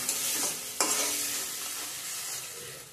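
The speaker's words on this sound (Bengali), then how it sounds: "ভালো করে কষিয়ে নেব।" Spice paste being fried with potatoes and pointed gourd in a pan for a vegetarian curry, giving a steady sizzle with scraping stir strokes, close and fairly loud with no talking.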